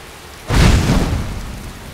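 Rain in the video game Skyrim breaks in with a sudden loud, thunder-like swell, then settles into a steady broadband hiss of falling rain.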